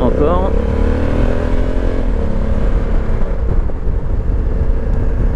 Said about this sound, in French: accélération modérée, la boîte auto est pas montée trop dans les tours